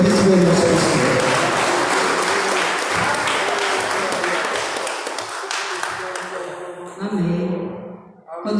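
A church congregation applauds during a Sunday worship service, sustained loud clapping that fills the room and gradually tapers off near the end, with some voices mixed in.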